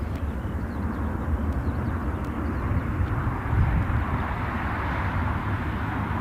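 An ATR turboprop airliner at Newcastle airport in the rain produces a loud, steady engine roar and broadband rumble that holds constant throughout, with a slight swell near the middle.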